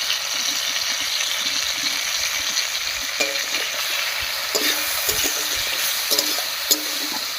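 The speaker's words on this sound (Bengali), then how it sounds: "এবার একটু ঢাকা দিয়ে দিয়ে ভাজা ভাজা মতো করে নেব" Cut potatoes salted with turmeric sizzle and fry steadily in a pan, with a few sharp clinks of a utensil stirring partway through; no voices.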